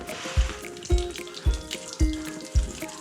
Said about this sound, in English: So we're gonna water this up top here.